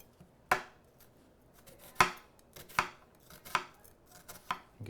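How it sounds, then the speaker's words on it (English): A knife dicing a red onion on a cutting board, five or six crisp separate chops spaced irregularly with quiet gaps between, close and clear with no talking. "Get some small dices"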